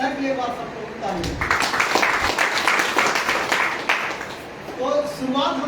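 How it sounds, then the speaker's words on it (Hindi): A room of attendees at an IMC business training program breaks into applause after a speaker's short line. The clapping swells through the middle, and a voice talks at the start and end. "एक बार सबको ताली।"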